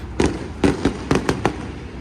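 Several sharp fireworks bursts pop in quick succession at a dirt track sprint car race at Lernerville Speedway, five or six bangs over a couple of seconds, moderately loud with some distance.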